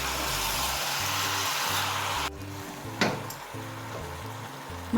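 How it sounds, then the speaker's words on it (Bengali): Mutton for Kashmiri rogan josh sizzles in a pan over a low flame, a steady hiss lasting about two seconds before dropping away, with background music playing throughout. "হালকা ফ্লেমে একটু কষিয়ে নেব।"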